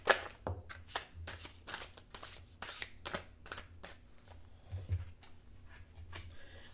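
Tarot cards are shuffled by hand in a rapid series of soft riffling snaps and slides, close and quiet, with an uneven rhythm over several seconds and a low hum underneath.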